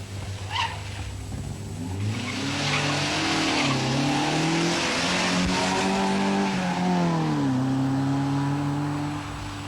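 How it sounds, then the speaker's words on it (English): A Volkswagen Scirocco rally car at the 1980 Ulster Rally drives past with a loud, rising and falling engine note as it revs and shifts through gears, with tyres squealing and gravel noise, close and steady. "Errol Dunn's Volkswagen Scirocco."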